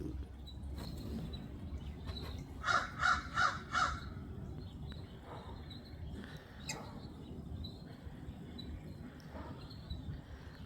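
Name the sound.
crows cawing in the yard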